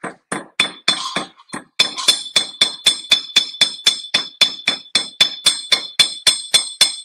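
A hammer strikes metal on a swage block at a blacksmith's bench, ringing sharply. A few uneven blows come first, then a long, steady run of evenly spaced, loud, close hits.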